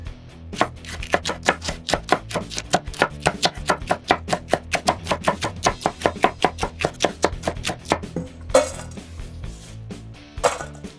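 Knife slicing ingredients for hot honey on a board, about thirty quick, evenly spaced chops in a steady rhythm, close and crisp, with a couple of louder clatters near the end and no speech.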